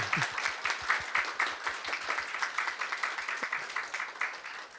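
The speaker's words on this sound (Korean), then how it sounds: "우리 박수로 환영하겠습니다" An audience applauds to welcome guests at a Korean speaking contest for international students. Crisp hand claps rise into a dense, fairly near round, then gradually thin and fade as it continues.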